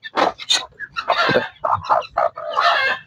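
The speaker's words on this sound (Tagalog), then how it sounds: "Nandito na po tayo sa mga manuka." Chickens at a pen cluck loudly and close by in a steady run of overlapping bursts, with no talk.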